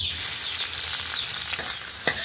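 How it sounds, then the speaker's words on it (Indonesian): Oil sizzles and crackles steadily as anchovies fry in a pan, with a few stirring scrapes and pops near the end. "Kita goreng terinya dulu"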